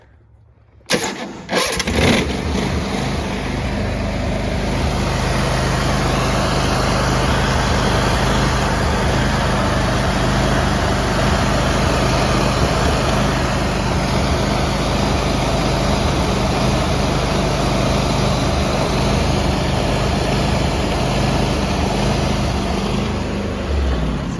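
A Kohler Command 23.5 hp riding mower engine fires up after a brief pause, then roars steadily at wide-open throttle without letup, loud and close.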